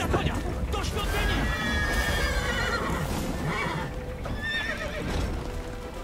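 A horse neighs and gallops with clip-clopping hooves during a chase in The Witcher 3, with wind in the background and voices talking over it throughout.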